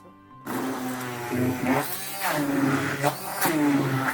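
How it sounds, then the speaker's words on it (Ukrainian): An electric blender whirs steadily with a buzzing motor hum as it purees a cottage-cheese casserole mixture, starting abruptly after a brief quiet moment and running continuously and close by, its pitch wavering slightly as it churns. "І тепер це все треба добре-добре перебити блендером, щоб воно було прям така однородна, однородна маса."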